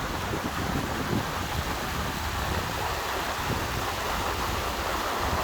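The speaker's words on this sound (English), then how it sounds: "we've got this stream coming through, and it's just kind of sheeting" Mountain stream sheeting over granite slabs on an off-trail backpacking route near Hyatt Lake, a faint, steady broadband rush of water with some wind noise and no talk.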